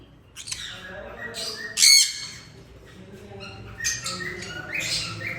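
A pineapple conure parrot, split blue turquoise, among breeding pairs at an aviary, gives a loud, harsh squawk, with scattered chirps and shorter calls from nearby birds around it.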